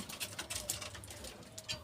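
Racing pigeons at a pigeon farm, faint soft cooing and light fluttering patter at a distance, repeating irregularly.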